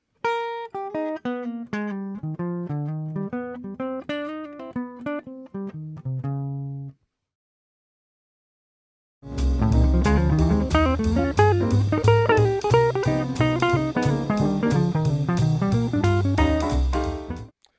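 A jazz guitar solo on a song: a melodic phrase of plucked notes played alone, a pause of silence, then a denser, fuller passage of rapid notes.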